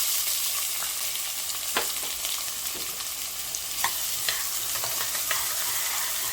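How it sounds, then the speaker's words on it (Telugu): Chopped onions sizzle steadily in a hot pan for a Telangana-style mutton curry, with intermittent scraping clicks of a spoon stirring them up close. "ఆనియన్స్ అన్నీ గోల్డెన్ కలర్ వచ్చేంత వరకు ఫ్రై చేస్తూ ఉండాలి"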